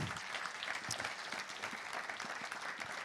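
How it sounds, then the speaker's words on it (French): Audience applause at an awards ceremony, a dense, steady wash of many hands clapping that fills the whole stretch at moderate loudness with no voices on top. "On applaudit encore une fois Christophe et Marie-Sara."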